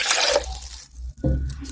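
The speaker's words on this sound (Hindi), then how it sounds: "इसमें मैं डालूंगी 2 गिलास पानी" Water poured from a glass into loquat juice being made at home, a short splashing pour followed by a brief pause and a second, fuller gush of liquid.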